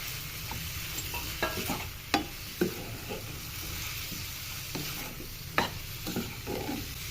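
Chicken and spices frying in a pan for a homemade chicken pizza topping, a continuous sizzle broken by repeated scraping stirs and sharp utensil knocks, close and without talk.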